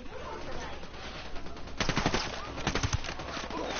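Bursts of automatic gunfire in Ghost Recon Wildlands, starting quieter and growing into rapid, dense volleys over steady background noise.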